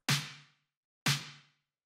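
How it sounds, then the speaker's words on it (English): A layered snare and clap techno drum sample with reverb hits twice, about a second apart, each a sharp bright crack with a low body that decays into a reverb tail before silence. "After that, we have the snare / clap thing"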